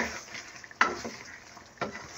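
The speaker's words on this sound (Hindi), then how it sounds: "अब इन सब मसालों के साथ हम इसे थोड़ी देर के लिए भूनेंगे, तकरीबन 2 से 3 मिनट के लिए" Chicken karahi with spices being fried and stirred in a pan: a soft steady sizzle with a couple of sharp scraping stirs, close up, no talking.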